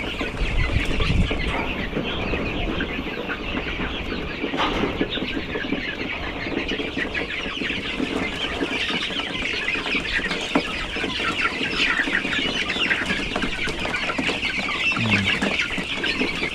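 Chickens cluck and murmur continuously nearby, several birds overlapping in a steady farmyard chatter.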